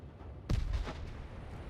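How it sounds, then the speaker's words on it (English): Missile launch in the Broken Arrow military strategy game: a single sharp, booming blast that rolls off into a low rumble, fairly faint against a steady background. "Missiles away."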